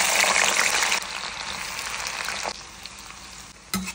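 Pieces of elephant foot yam fry in hot coconut oil, giving a loud, steady sizzle that drops a little partway through and carries on unbroken to the end.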